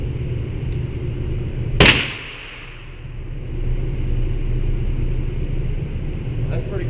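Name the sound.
gun being fired at a shooting range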